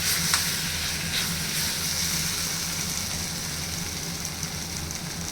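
Eggs frying in a pan, a steady close sizzle and hiss that carries on evenly throughout with small crackles and no talking.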